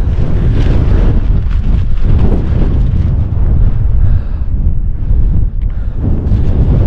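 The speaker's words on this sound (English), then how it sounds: "Getting hammered by wind" Strong, steady wind buffets the microphone at a wild camp on Hen Mountain, a loud continuous roar with gusting surges and no speech.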